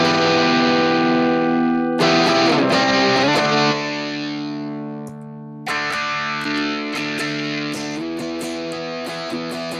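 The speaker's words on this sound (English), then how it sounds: "But let's dial in a Vox sound here on the Headrush." Electric guitar through a Vox amp model on a Headrush unit, played dirty with sustained strummed chords, a brief pause, then ringing chords again, loud and alone.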